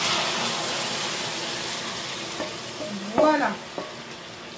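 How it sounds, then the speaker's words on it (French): Broth is poured into a hot pan of caramel for pork and seitan, giving a steady sizzling hiss that surges briefly into a louder bubbling splash. A voice speaks briefly. "je prends mon bouillon et je transvase dedans"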